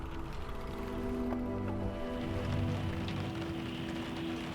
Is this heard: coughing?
no